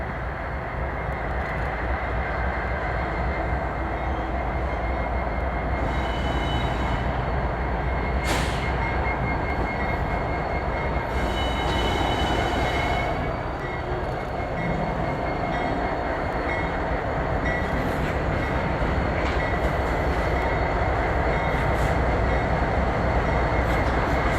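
A Norfolk Southern train rumbles steadily around the Hyde Park wye, giving a continuous loud rolling roar of railcars and wheels with faint squeals throughout.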